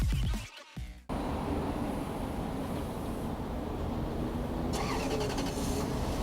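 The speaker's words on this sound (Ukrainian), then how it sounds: "до цього 2006 року ми ще маємо дистанційний пуск двигуна" A 2006 Lexus LX 470 engine turns over and starts by remote start after a brief opening noise, then settles into a steady, close idle that holds to the end.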